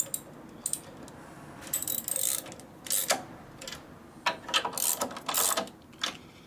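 A ratchet wrench tightens bolts on a Harley-Davidson panhead transmission, giving close, quiet bursts of clicking pawl strokes with short pauses between them.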